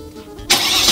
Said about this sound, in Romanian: Hai, pornesc motorul că vreau să plec.